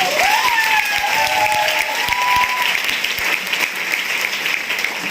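A crowd claps for everyone present, a thick, continuous roar of hands with a thin high whistle-like tone rising briefly near the start before the applause carries on alone.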